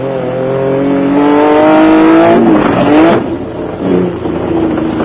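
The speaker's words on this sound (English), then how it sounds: "On board with Carolyn and Testiga in the Mitsubishi Pajero" A Mitsubishi Pajero off-road race car in a South African off-road race drives loud and close from inside, its engine revving up steadily through the gears, dropping back, then building again.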